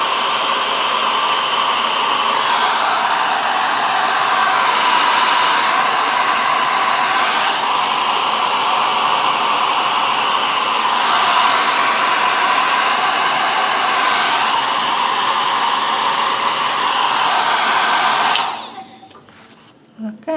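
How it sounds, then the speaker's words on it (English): Loud, continuous hair dryer airflow roars close by with a slight wavering as it moves, then switches off near the end. "I'm going to use my hairdryer and just blow on it."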